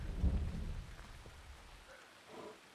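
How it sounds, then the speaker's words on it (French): A thunderstorm with rain in Assassin's Creed Odyssey: a loud low thunder rumble at the start that fades into steady rainfall, with a faint second rumble near the end. "l'orage, ça va faire deux jours"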